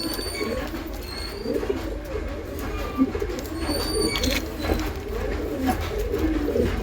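Pigeons coo steadily in a breeding room, a dense, continuous layer of low throaty calls from several birds close by, with faint higher chirps and rustling mixed in.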